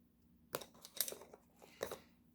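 A pencil lightly shades the lips of a portrait drawn on paper, giving a few short, close scratchy strokes separated by brief pauses.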